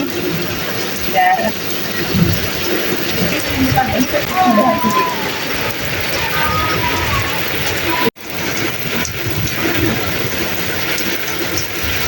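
Rain falls steadily on a mud-house village in Punjab, a constant soft patter, while people talk over it and a brief cut interrupts near the end.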